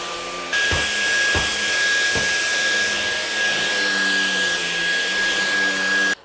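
A LEVOIT cordless vacuum cleaner runs on an area rug with a steady, loud, high-pitched motor whine. It starts abruptly after a short lead-in and holds evenly, with a few bumps early on, before cutting off sharply at the end.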